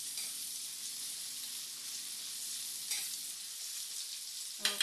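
Onion or garlic sautéing in a pan for a pork dish, a steady close sizzle and crackle of frying with faint stirring, one louder scrape near the end.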